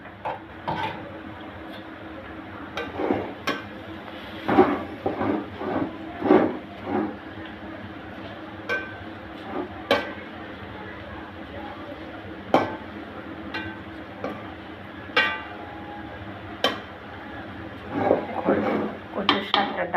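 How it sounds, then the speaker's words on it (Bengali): A pot lid is lifted and a spoon stirs taro greens cooking with lentils, producing scattered metallic clanks and scrapes against the pot over a low background hum, with a voice talking at times. "দেখুন আমি ঢাকনাটা উঠিয়ে এবার একটু নেড়ে দিব।"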